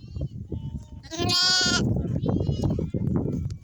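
A single sheep from a shepherd's flock bleats once, close and loud, in a forest while someone talks nearby.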